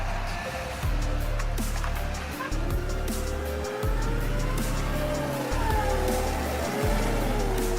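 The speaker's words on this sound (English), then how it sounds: "The engine roars in a last-ditch effort, the wheels skidding on the wet ground." A New Holland T7.270 tractor's engine drones loud and steady while its wheels grind and slip on wet ground, with a continuous low rumble and occasional scraping squeals over the top.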